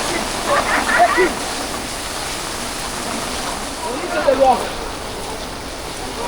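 Heavy rain and rushing water at Athirappilly waterfall in Kerala, a steady broadband roar throughout, with brief bursts of voices rising over it twice.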